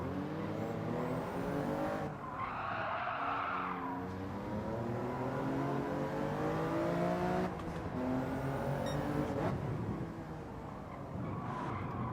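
A racing car in Gran Turismo 7 brakes hard into a corner, its engine note dropping and rising across the gears while tyres squeal briefly, a loud continuous engine drone running throughout.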